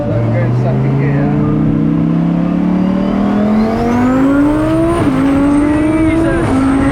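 A 1200 hp twin turbo Lamborghini in aggressive Corsa mode revs hard and loud in second gear, its engine note climbing steadily before sharp, abrupt gear shifts cut in near the five-second mark and again shortly after, close and continuous.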